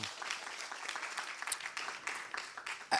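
Audience at a COP26 food-sector debate applauding a speaker, a faint, dense patter of many hands clapping throughout.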